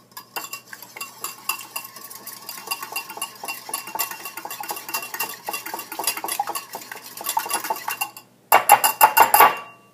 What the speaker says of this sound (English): So we're just going to whisk these together till the yolk is gone.